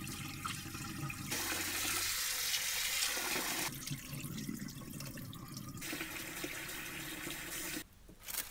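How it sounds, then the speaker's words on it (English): Sweet rice for homebrewed makgeolli is washed under running tap water, a steady, loud rush that shifts in tone as the flow and the rice move, then briefly drops near the end. "Have to wash that rice thoroughly."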